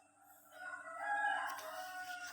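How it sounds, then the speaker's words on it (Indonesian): Roosters crowing outdoors in the morning, a drawn-out call rising in the middle, fairly faint and slightly distant, with no talking. "dengar suara ayam masih ribut di luar"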